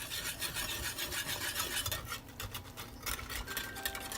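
Wire whisk rasping rapidly against a bowl while mixing a diabetic-friendly bangers and mash dish, a steady close scraping rhythm that briefly eases before resuming.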